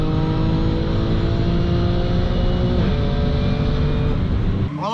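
A Stage 2+ Audi B8 S4 with dual pulley and E40 fuel racing down a drag strip, its engine droning loud and steady with a smooth upshift midway before cutting off.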